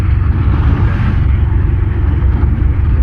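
Steady low rumble of a bus and traffic on a big highway below a ghat road toward Mumbai, loud and continuous with no talk.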